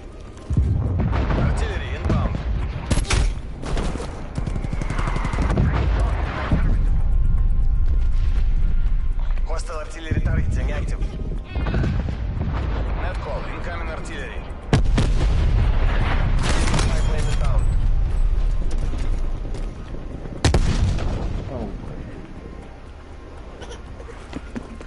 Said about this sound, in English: Artillery targeting detected.